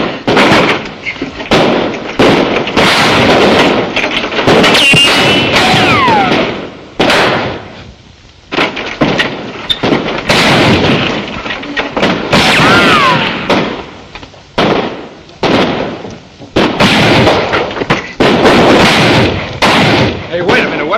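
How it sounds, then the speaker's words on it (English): Gunfire rings out in a 1949 Western comedy scene, with repeated loud cracking shots in bursts and ricochet whines, near and sharp, mixed with people talking and shouting in between. "What are we shooting at her for?"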